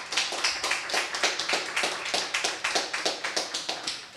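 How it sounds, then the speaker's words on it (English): Audience applause in a small nightclub or bar venue, a steady crowd of hands clapping in quick rhythmic bursts, close and moderately loud throughout, with no talking. "give yourself a round of applause for coming out tonight."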